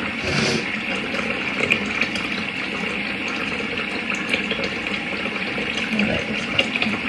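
Water runs steadily from a tap into a sink during face washing, a constant close hiss and splash with small fluctuations and no talking.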